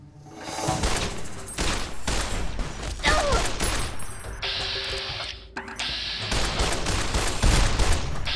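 Rapid rifle gunfire from Fallout: New Vegas, with repeated sharp bursts of shots crowding together over about eight seconds, loud and continuous with brief pauses between volleys.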